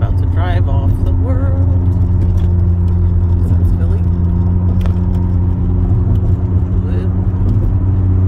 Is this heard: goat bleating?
no